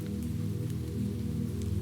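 Gentle rain patters steadily on windowpanes, a soft even wash of drops with a low hum underneath, close and continuous with no voices.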